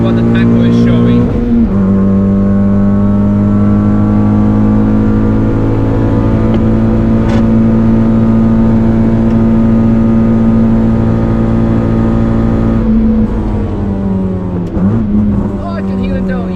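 The engine of an R18 Honda Jazz race car at the Nürburgring holds a loud, steady drone near the limit, a strong buzzing note that drops briefly at the end, with wind and road noise throughout.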